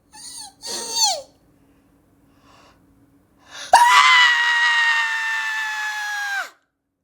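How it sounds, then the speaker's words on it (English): A cartoonish scream of agony: two short yelping cries, a pause with faint noise, then a sudden loud, sustained high-pitched wail held for nearly three seconds before cutting off. "Irona cartoonishly screams in agony"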